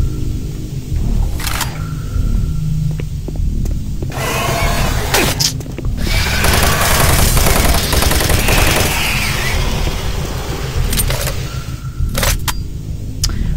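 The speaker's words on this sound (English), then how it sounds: "For a chain gun, this is quite slow." A chain gun in Doom 3 fires in loud, close bursts of mechanical clatter with sharp impacts between them, dense and rough through the middle and trailing into scattered clicks.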